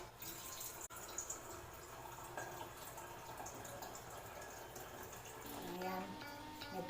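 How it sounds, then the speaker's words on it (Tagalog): Water runs steadily from a dispenser into a container, a continuous splashing flow that grows slightly fuller toward the end. "water dispenser."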